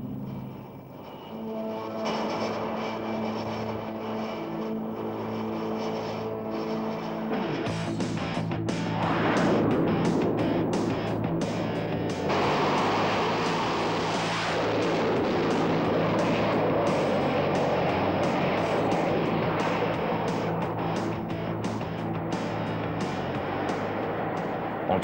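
F/A-18 Hornet jet fighter powered by two afterburning turbojets, a continuous loud roar that swells as the jet passes, with dense rumbling noise and crackle and no talking throughout.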